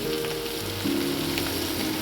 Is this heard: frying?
yes